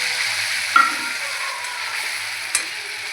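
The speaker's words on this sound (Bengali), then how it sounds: "এবার তেলের মধ্যে পেঁয়াজ জিরে তেজপাতা দিয়ে এটাকে লাল লাল করে ভেজে আমার আদা রসুন পেস্ট করা এগুলো এবার দিচ্ছি" Ginger-garlic paste goes into hot oil with browned onions, cumin and bay leaf, giving a steady soft sizzle broken by two brief clinks of a spoon stirring the pan.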